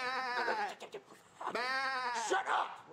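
A person bleats like a sheep, loud and close, in long wavering cries broken by short pauses over about three seconds. A voice is imitating a sheep here.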